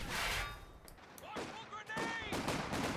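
Machine gun fire in Company of Heroes 2, quick bursts of distant rattling shots mixed with battle noise under a commentator's voice.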